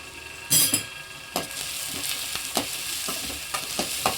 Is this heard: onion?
yes